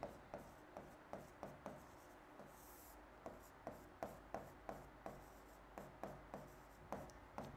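Pen strokes of handwriting on paper while working out partial fractions, a steady run of quick, rhythmic scratches and taps, close and fairly quiet, with no talking.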